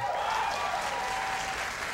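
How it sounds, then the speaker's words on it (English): Studio audience at a 1997 late-night talk show applauding loudly and continuously, a dense wash of clapping that fills the whole stretch with no break. "please hold your applause until I've read the entire list of Andy Garcia films"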